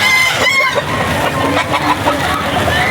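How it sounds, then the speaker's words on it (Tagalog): A 5K sweater gamefowl rooster at a Bocaue pet market clucks and crows up close, loud and repeated calls filling the moment with no talk over them. "manok ni Boss Dama na isang early bird na 5K sweater"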